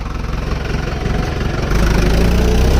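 A tractor engine idles nearby with a loud, steady low chugging throb that deepens and grows slightly heavier partway through, with no voices over it.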